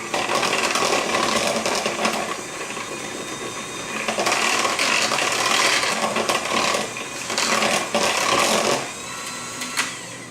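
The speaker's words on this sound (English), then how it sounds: "we're going to mix these up. Just enough to get the walnuts blended very well into the banana bread mixture." An electric mixer whirs steadily while blending walnuts into banana bread batter, its loudness rising and dipping as it works, with no talking.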